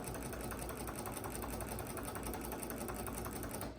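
A sewing machine fitted with a walking foot stitches straight quilting lines, its motor whirring in a fast, steady, even rhythm close up and alone for a few seconds before easing slightly at the end.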